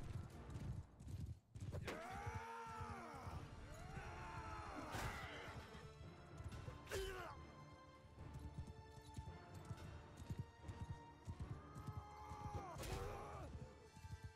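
Horses in the Mount & Blade II: Bannerlord video game, with repeated clip-clop hoofbeats and several loud whinnies rising and falling, plus occasional crashes and battle noise over a busy game soundscape.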